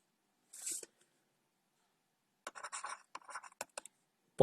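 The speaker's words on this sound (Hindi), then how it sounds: "यहाँ लिखता हूं" Short scratchy strokes of writing on a board during a class 8 maths lesson, a brief burst followed by a quiet pause and then a series of quick, close strokes.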